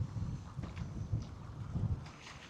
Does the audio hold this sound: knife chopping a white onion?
no